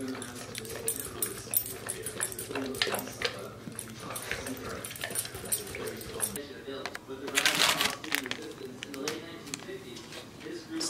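A dog whimpers and shuffles around indoors, claws and movement sounds mixing with a steady hum, loud rustling bursts near the middle, and people talking over it throughout.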